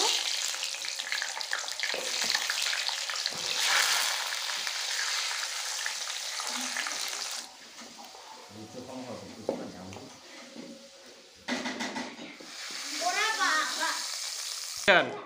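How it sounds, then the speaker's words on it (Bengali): Potatoes frying in mustard oil in a wok give a steady, loud close sizzle that later drops and returns in bursts, with stirring clatter and some talk in the middle. "এখন আলুগুলো ভেজে নেব।"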